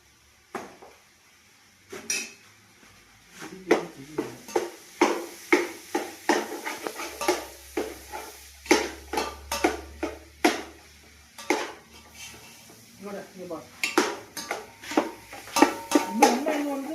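Food is sautéed in a pan with a utensil stirred constantly, making a run of repeated clattering, scraping strokes against the metal. The strokes come in an irregular rhythm and are loud and near.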